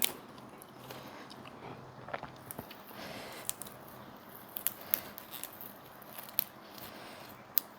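Close, quiet chewing and biting of water clover (phak waen) eaten with rice and fried mackerel, irregular small crunches and soft mouth sounds spread through a calm room.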